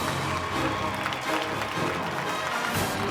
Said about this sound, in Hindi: जोरदार तालियां दोस्तों, तालियां बजती रहनी चाहिए